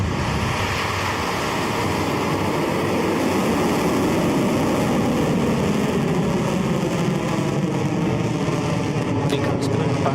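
A Rocket Lab rocket roars after liftoff, a broad, dense, steady rumble that fills the whole stretch at full loudness with no breaks.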